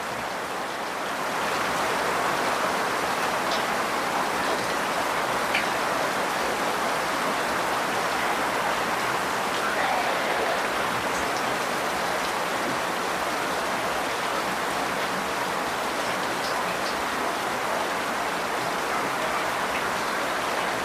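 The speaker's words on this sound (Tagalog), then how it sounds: "Lakas ng ulan." Heavy rain pours down in a dense, steady roar that rises after the first second and holds evenly, with no voices.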